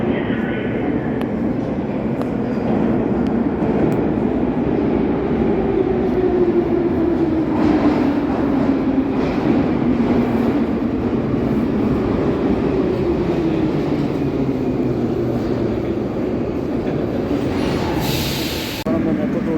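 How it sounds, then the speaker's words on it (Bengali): A Russian metro train running through a station, a loud, continuous rumble and roar with a slowly gliding pitch as it moves along the platform, steady throughout and close. "এখন মেট্রোর জন্য ওয়েট করবো। তো দেখাবো মেট্রোর ভিতরে কী অবস্থা।"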